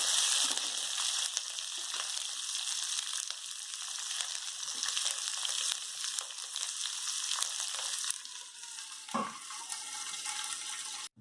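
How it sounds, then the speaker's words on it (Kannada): Medium onions sliced lengthwise frying in a pan for masala dosa, a steady close, loud sizzle that runs continuously with a brief stir or shift near the end. "ಈಗ ಈರುಳ್ಳಿಯನ್ನು ಬಾಡಿಸ್ಕೊಳ್ಬೇಕು"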